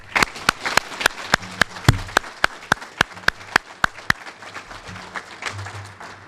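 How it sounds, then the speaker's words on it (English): At a Citizen of the Year 2013 award ceremony, an audience honors the recipients with steady, evenly spaced rhythmic claps, crisp and fairly close, that loosen into softer scattered clapping and low murmur. "Let's applaud the individual incredible efforts of each of the fine individuals and groups recognized tonight"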